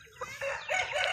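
A brief snatch of a native chicken rooster crowing, a harsh rising call heard at moderate distance.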